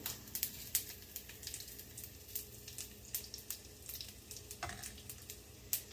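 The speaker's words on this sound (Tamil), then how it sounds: "உள்ளியையும் போடுறேன் அதுக்குள்ள." Garlic fries in hot oil for Jaffna rasam, a continuous close sizzle scattered with sharp crackles and pops, and no voices.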